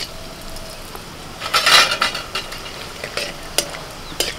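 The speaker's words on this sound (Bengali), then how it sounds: "ওই তেলের মধ্যে আমি ফোড়নে দিচ্ছি তেজপাতা, এলাচ, দারচিনি, লবঙ্গ।" Bay leaf, cardamom, cinnamon and clove crackle in hot oil with a brief loud burst of sizzle, then scattered pops and a soft ongoing fizz, close and without voices.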